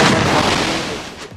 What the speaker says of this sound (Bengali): শটগানে হেডশট দেখতে পেলাম